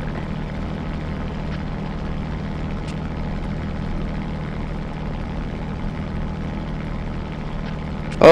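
A WW2 propeller warplane engine in the flight combat game DCS World drones steadily at an even, constant level, alone with no talk.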